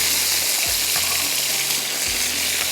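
Tomatoes and green chillies frying in a pan, a steady loud sizzle with faint stirring scrapes, no voices.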